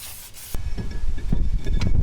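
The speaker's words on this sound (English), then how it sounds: "Slide the new rotor on." A new brake rotor is slid onto the rear wheel hub of a Chevy, GMC or Cadillac truck, making a close, scraping metal rub with a few knocks and short grinding bursts after a brief quiet start.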